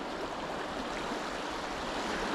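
River current pours steadily over a spillway at Blue Mountain, a continuous, dense rushing wash of water with no pauses, close and fairly loud throughout.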